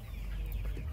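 A Kaveri breed hen clucking on a poultry farm, a single short, faint cluck against low background noise.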